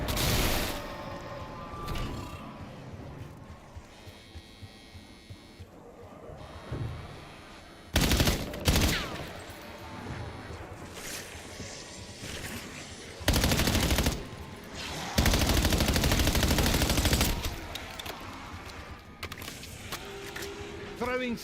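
Several long bursts of light machine gun fire rattle out in a Call of Duty: Black Ops 7 match, loud and sustained, with quieter stretches in between where players talk.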